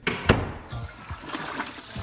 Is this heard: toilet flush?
yes